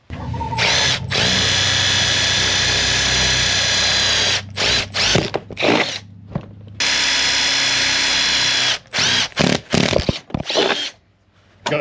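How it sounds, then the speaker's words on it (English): Power drill boring turn signal mounting holes into a side-by-side UTV body, loud sustained whine in long bursts broken by brief stops and short stuttering trigger pulses near the end. "So now it's time to get to drilling."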